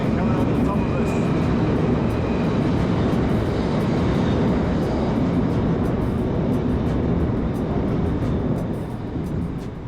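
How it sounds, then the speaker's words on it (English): A heavy, steady rumble of a train passing close overhead on a concrete, steel and brick bridge in Little Venice, London, loud and continuous, easing slightly toward the end. "Train coming on the top of us."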